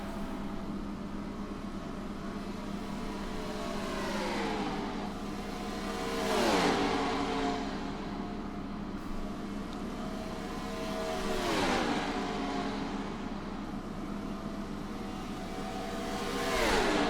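Race car engines in a video game roar and rise in pitch as the All-Star Race at Texas goes green, with repeated swelling passes of whining engines over a steady drone of the field, loud and continuous.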